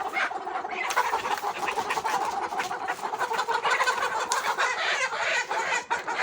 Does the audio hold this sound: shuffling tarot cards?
no